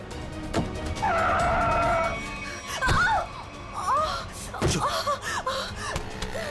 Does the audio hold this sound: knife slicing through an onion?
no